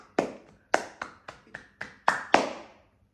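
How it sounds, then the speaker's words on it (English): Hands clapping in appreciation as part of a yoga and breathwork session: eight sharp, close claps, spaced unevenly at first and then coming faster toward the end, with silence between them and no talking. "appreciation, clapping for others,"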